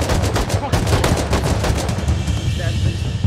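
Rapid gunfire from the survival video game Rust, a dense run of sharp repeated shots close up, easing off near the end, with a player's voice partly audible underneath.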